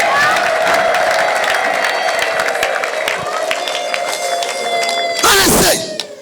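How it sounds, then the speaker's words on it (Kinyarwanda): Church congregation applauding and ululating in praise, a dense crowd roar of clapping and cheers that holds steady, then swells into a loud burst of high trilling near the end before dropping away. "Abamwizeye bamuha amashyi, ababyeyi bavuze impundu mu izina rya Yesu."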